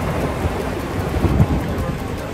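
Heavy rain pours down in a thunderstorm over a sailboat at anchor, a steady dense hiss with a low rumble of thunder rolling underneath throughout, and no voices.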